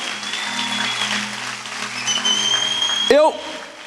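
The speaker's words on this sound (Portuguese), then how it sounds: "então termina aplaudindo até lá." A congregation at a youth worship service applauds. Moderate, continuous clapping sits under sustained musical tones, ending with a brief louder burst near the end.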